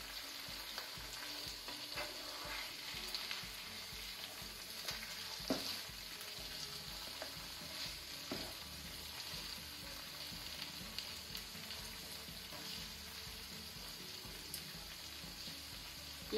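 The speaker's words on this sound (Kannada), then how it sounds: "ಈಗ ಹೀಗೆ ನಾವು ಫುಲ್ ಸ್ಲೋ ಫ್ಲೇಮ್ ಅಲ್ಲಿ ಇದನ್ನು ಓಪನ್ ಆಗಿ ನಾವು ಫ್ರೈ ಆಗಲಿಕ್ಕೆ ಬಿಡುವ" Fish fries open in a pan over a very low flame, with a steady, quiet sizzle and crackle and occasional faint stirring or turning clicks, continuous throughout.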